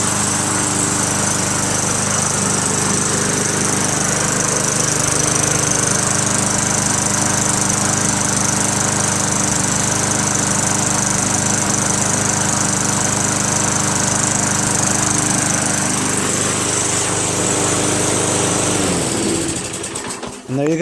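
A Briggs & Stratton lawn mower engine runs after a dose of starting fluid, holding a loud, steady, fairly low idle close by for about twenty seconds before cutting out.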